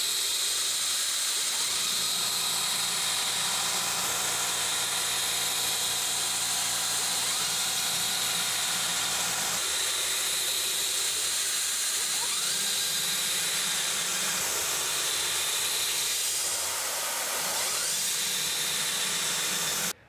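DIY CNC mill with a new motor and VFD rigid tapping holes, its spindle whining steadily under a dense hiss, with pitch shifts as the spindle slows, reverses and backs out, loud and close throughout.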